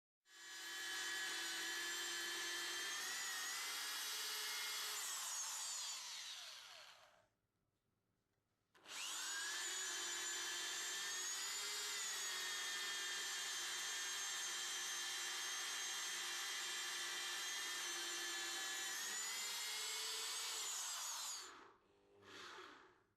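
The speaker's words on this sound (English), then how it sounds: "drill a 26 mm diameter hole to a depth of 185 mm." A power drill bores a 26 mm hole into a wooden door in two long, loud, steady runs separated by a short pause, with a brief sputter at the end. No talking.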